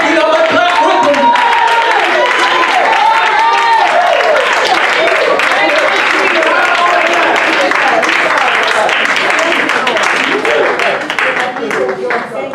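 A church congregation claps along during a lively service, the steady applause mixed with singing and voices throughout, loud and dense.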